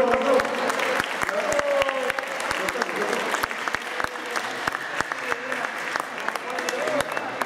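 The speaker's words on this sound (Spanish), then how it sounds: "vamos a dar un fuerte aplauso" Sustained audience applause at a school science fair awards ceremony, dense clapping filling the whole stretch with a steady crowd wash and a few louder individual claps standing out.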